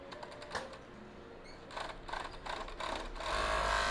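A sewing machine stitches bias binding in short bursts, quiet rapid mechanical whirring and clicking that starts and stops, then runs more steadily near the end.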